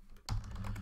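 A few quick keystrokes tap on a computer keyboard while a setup command is typed, close and fairly quiet, a short burst of clicks with no talking.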